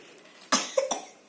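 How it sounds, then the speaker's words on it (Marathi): A person coughs indoors: one sharp close cough followed by two quicker, smaller coughs, loud against a quiet room with no talk. "अरे खोकला"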